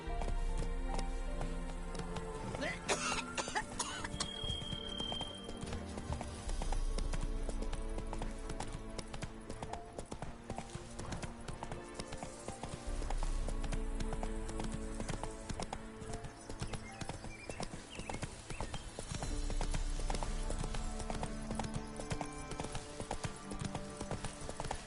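Horse hooves clip-clopping at a steady run in The Witcher 3 on PS4, a continuous rhythmic beat layered under game music and ambience throughout.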